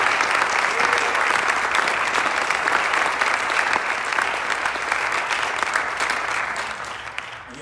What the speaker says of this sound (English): if we could just give a round of applause to all our inductees